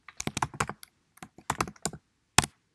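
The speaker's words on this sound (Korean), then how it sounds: "타이핑이 안 되네" Rapid computer keyboard typing close up, loud crisp keystrokes in two quick flurries and then a single hard tap after a pause.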